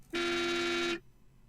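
One steady, brassy tank horn honk in World of Tanks, held for just under a second, loud and close, then cut off into quiet.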